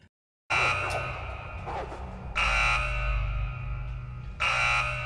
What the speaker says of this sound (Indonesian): Saat akan memancing anjing penjaga dengan roti, tiba-tiba alarm kurungan milik Sean berbunyi.